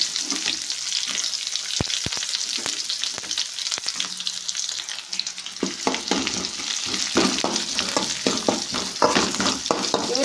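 Garlic and curry leaves frying in a pan, a continuous close sizzle broken by sharp clicks and scrapes of a spoon stirring, busier toward the end, with no talking.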